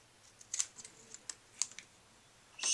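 Scissors snip along a cookie edge: a handful of short, sharp, separate clicks close by, spaced irregularly, with a louder burst of snipping at the end and no voices.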